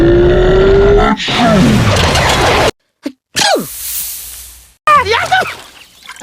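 Cartoon character sneezing with exaggerated voiced bursts, set among animated dialogue scenes with brief silent gaps; several short vocal sneezes and gasps are heard alongside speech.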